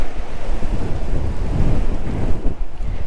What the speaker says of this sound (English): a choppy sea today, quite a wind.